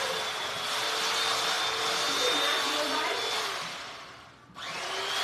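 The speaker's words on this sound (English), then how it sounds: "so he's cutting it up with the electric knife" An electric knife cuts through grilled sausage with a continuous high whirring buzz that sags and briefly stops near the end, then starts again.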